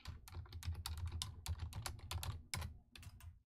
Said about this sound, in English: I'm pretty quick at typing her name.